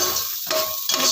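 A pan of vegetables sautéed with hakka noodle masala, Maggi masala and vinegar, a loud close frying hiss with two quick spoon scrapes against the pan, no voices.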